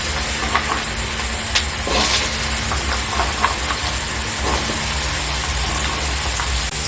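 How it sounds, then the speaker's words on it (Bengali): Potatoes frying in hot oil for a home-style pasta recipe: a steady, loud hiss and sizzle that runs unbroken through the whole stretch, with small crackles now and then. "প্রথমেই আমি আলু ভেজে নেব।"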